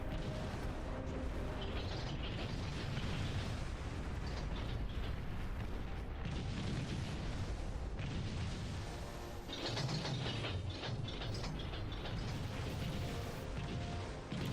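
Torpedo bomber attacks in a naval video game, with continuous dense rumbling explosions and booming artillery-like blasts sustained throughout, loud and heavy with no clear pauses.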